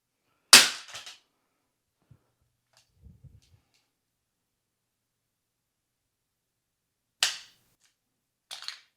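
A sharp metallic clatter as a SIG P320 pistol hits the ground, a few small rattles after, then silence before another clack and a softer knock.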